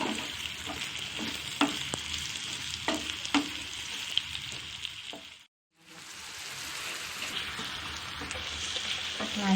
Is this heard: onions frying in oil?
yes